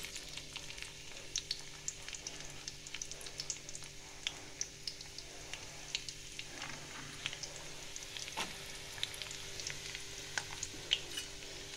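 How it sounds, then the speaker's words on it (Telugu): Cut onion pieces fry in hot oil, a steady close crackling sizzle with scattered sharp pops spread through the whole stretch, no voices over it. "ఆయిల్ వేడయ్యాక మనం కట్ చేసుకున్న ఉల్లిపాయ ముక్కలు వేసుకుందాము."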